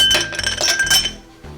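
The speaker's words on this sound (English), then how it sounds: "We're going to put in some fresh ice in there." Fresh ice clinks and rattles into a serving glass for a cocktail, several bright glassy clinks in quick succession, close and fairly loud, with no talking.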